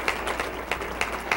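Audience applause at a live comedy show, a steady wash of clapping with periodic louder bursts, moderately close and continuing for the whole short stretch without speech on top.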